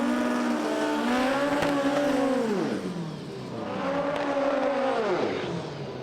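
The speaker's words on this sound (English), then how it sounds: "Strong burnout there from Andy Nichols" Front-wheel-drive drag racing cars doing burnouts at a drag strip, a loud sustained engine roar with two long revving surges that rise and fall, tire squeal mixed in, and no commentary over it.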